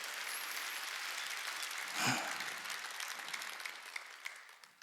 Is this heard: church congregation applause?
yes